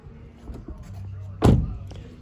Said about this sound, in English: Door has a really nice sound, by the way, when you close it.